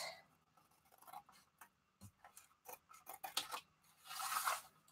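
Scissors cutting the edges of bed sheet fabric for a junk journal cover, a series of close, quiet snips and rustles at an uneven pace, ending in a brief scrape of the material.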